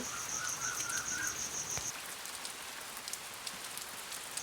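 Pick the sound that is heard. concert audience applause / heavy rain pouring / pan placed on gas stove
heavy rain pouring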